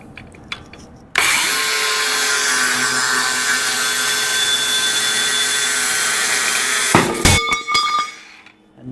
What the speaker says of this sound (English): Now I got to get this side cut.